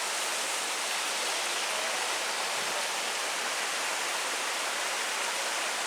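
A small stream near the waterfalls of Blowing Rock rushes steadily, its even, broadband water noise filling the whole stretch without any break or voices.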